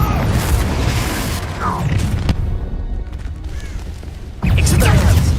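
A Confringo fire spell explodes with a loud boom during a duel in the Hogwarts Legacy video game, preceded by crackling combat effects and a voice.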